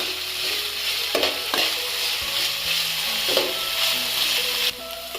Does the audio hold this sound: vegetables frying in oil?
yes